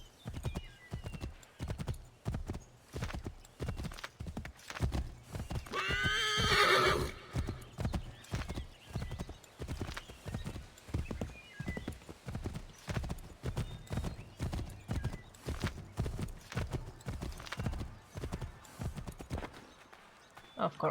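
A horse's hooves clip-clop in a steady rapid gallop in Assassin's Creed III, with a loud whinny rising partway through, all fairly quiet and close.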